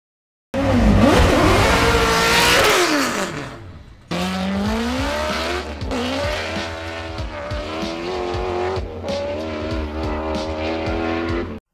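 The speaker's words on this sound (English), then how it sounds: "Here are 4 equal length 8-into-1 headers, all with the sequential firing sequence. But only 2 get that musical exhaust sound." A racing engine with equal-length 8-into-1 headers and a sequential firing sequence howls loudly, its pitch sweeping up and down through two separate revving runs split by a brief drop.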